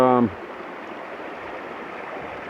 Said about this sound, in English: just have that beautiful sound of the river. And a mini waterfall right here.